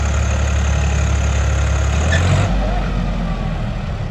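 A farm tractor labouring in a muddy field, its engine rumbling steadily and loud up close, with a shift in pitch and load partway through as the wheels slip in the mud before settling to a lower idle.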